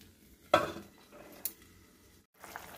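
A metal lid goes onto a cooking pot of chicken kofta curry, one sharp clatter followed by a lighter clink a second later, close and otherwise quiet with soft kitchen rustle.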